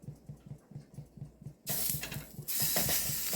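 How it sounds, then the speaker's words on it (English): Avocado oil is sprayed into a heated pan in two bursts of bright hiss, the second longer and stronger. A faint rhythmic thumping runs underneath throughout. "I sprayed it with a little avocado oil"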